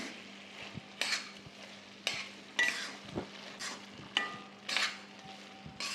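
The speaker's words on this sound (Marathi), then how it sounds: "आता चांगलं हे मिक्स करून घ्यायचं" Carrot halwa with cardamom is stirred in a pan, giving a series of distinct scraping, sizzling strokes roughly once per second over a low, steady background hum; close and fairly quiet, with no talking.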